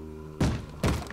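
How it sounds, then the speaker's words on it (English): A mob in Minecraft banging on a wooden door: two heavy, hollow thuds about half a second apart, loud and close. "You gotta bang on my door like that."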